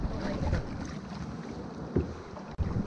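A canoe paddled along Lake Superior's rough northern coast in spring, with wind rushing over the microphone and water sloshing and splashing against the hull and paddle.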